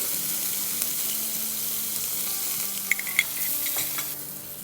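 Stuffed naan, brushed with oil and salt, fries on a tawa over medium-low flame, giving a steady close sizzle with a few small sharp pops crackling through and no voices.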